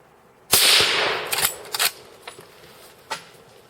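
A .30-06 rifle fires at a deer, one sharp, loud crack followed by a trailing echo and a few faint knocks and rustles.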